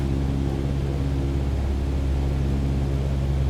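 Aeroplane engine in Microsoft Flight Simulator 2020 climbing toward high altitude near Mount Everest, a steady, loud, unbroken drone with a constant low hum and no talking.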